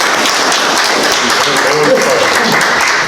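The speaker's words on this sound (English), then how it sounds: "Another round of applause." Loud, dense applause from an audience after a ghost town talk, a steady wash of clapping that fills the whole stretch, close and continuous with no speech over it.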